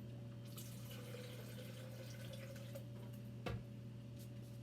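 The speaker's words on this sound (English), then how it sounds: "And then I'm going to fill it with water" Tap water pours steadily into a container being filled for film developing, a quiet continuous trickle with one brief clunk near the end.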